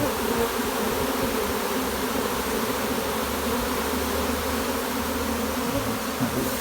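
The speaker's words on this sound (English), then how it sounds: "They're all scenting furiously. And all the bees that are on the ground, which we're going to avoid trying to step on, they're going to start walking right in." A honeybee swarm scenting furiously at close range, a dense, steady buzzing of many wings that fills the whole stretch without pause and with no voices over it.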